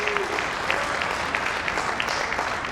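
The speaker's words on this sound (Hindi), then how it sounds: "ये तालियां इस बात की परिचायक है" Sustained audience applause at a Hindi poetry recital (kavi sammelan), a dense steady patter of many hands clapping throughout, fairly close and even in level with no pauses.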